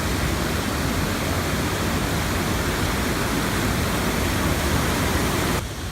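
Rushing water of the Sydenham River in a park in Owen Sound, Ontario, a steady, loud, broadband roar of fast-moving water close by, continuous throughout with a slight drop at the very end, with no voices.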